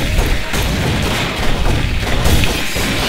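Gunfire in the Call of Cthulhu video game, a dense, loud burst of booming shots and crashing impacts repeating through about three seconds, with no talk over it.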